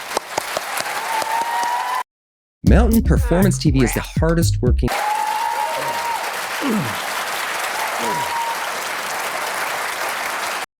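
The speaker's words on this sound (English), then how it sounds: "I think this is one time when we ought to just give them both a real round of applause" Sustained audience applause fills a Virginia attorney general debate hall, a dense steady clatter of many hands. It is briefly broken by a gap and a burst of unrelated announcer speech.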